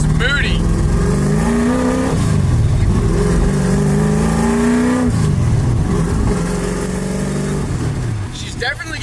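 A 1965 Ford Mustang with a tunnel ram engine and twin carburetors, out on the road for the first time, revs loudly and steadily up and down throughout, a rough, rumbling engine note heard close up.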